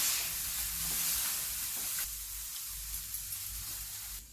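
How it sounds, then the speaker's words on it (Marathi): Onion sizzles and fries in a pan during Marathi home cooking, with a steady soft hiss and occasional stirring scrapes, heard alone at moderate volume. "आपला कांदा इकडे भाजत आहे"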